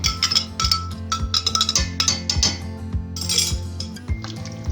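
A spoon stirs ground rice into milk in a pot for badami kheer, making a quick run of metallic clinks and scrapes against the pot that repeat in an uneven rhythm, close and fairly loud.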